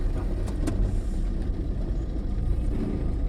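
A car pulls away slowly in first gear on a road, its low engine rumble steady and close throughout, with no voices.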